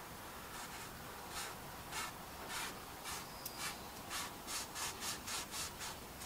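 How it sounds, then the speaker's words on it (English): A green Scotch-Brite pad scrubs rust from the bore of a John Deere cylinder, a faint, even run of back-and-forth rubbing strokes that grows steadier and quicker, heard close with no voices. "Green's the coarsest Scotch-Brite, and I knew I had some rust here, so we're taking care of that."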